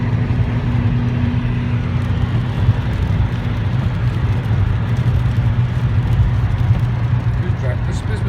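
A car engine hums at a low, steady drone while driving, loud and continuous throughout, with road rumble and no clear speech.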